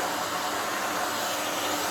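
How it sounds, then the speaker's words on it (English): A steady, loud blowing hiss with a motor hum, unbroken throughout, like a hair dryer running close by. "following back and forth like this with my blow dryer"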